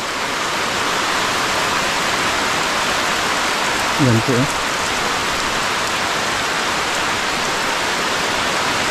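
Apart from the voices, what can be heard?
heavy rain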